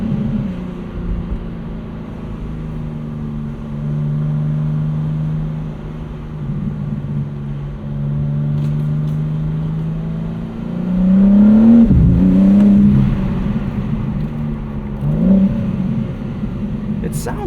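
A 2025 BMW M4 CS G82 engine pulls while driving, giving a deep, steady drone with rising revs and a couple of sharp swells near the end, heard from inside the cabin.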